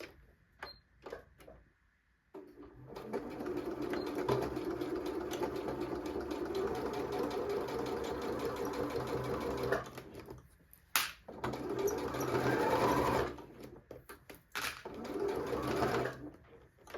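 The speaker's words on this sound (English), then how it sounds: "I'm going to start on the main fabric of the bag and stitch all the way down." Sewing machine stitching the main fabric of a zippy pouch runs in long steady whirring stretches with a fast mechanical rhythm, stopping briefly between runs, close and clear.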